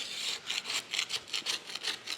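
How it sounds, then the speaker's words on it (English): A putty knife scrapes decades of old oily crud off a Fellows 7-Type gear shaper, making repeated rhythmic rasping strokes, about eight quick passes at a steady pace, close and fairly quiet with no talking. "I'm just going to take a putty knife here and start trying to scrape up all this crud in here"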